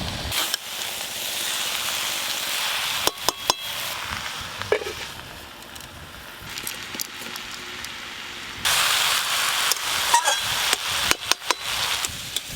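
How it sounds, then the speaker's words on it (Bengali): Greens being stirred and mixed with spices in a frying pan, for a Bengali pui shak dish with fish head, give a steady frying hiss with intermittent scraping and clattering of the spatula against the pan. "শাকগুলো এভাবে নাড়তে নাড়তে মশলার সঙ্গে মিশিয়ে নেব।"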